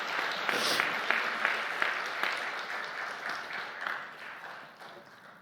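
A church congregation at a Sunday worship service in a Korean church claps together in a steady, dense round of applause, moderately loud and slowly easing off toward the end.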